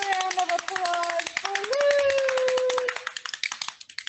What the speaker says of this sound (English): Here's a round of applause for Lou.